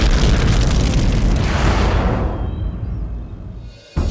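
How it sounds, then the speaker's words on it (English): A huge explosion sound effect for the 1908 Siberian blast that flattened forest across central Siberia: a loud, sustained roaring boom that fills the clip, then slowly rumbles and fades before a brief final jolt. "An explosion uproots 60 million trees and devastates more than 800 square"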